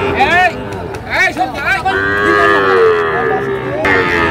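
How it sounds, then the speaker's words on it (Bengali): A Sahiwal calf moos loudly and drawn-out, close by, with people chattering in the background at a cattle market in Dinajpur. "শাহিওয়ালের বাচ্চা"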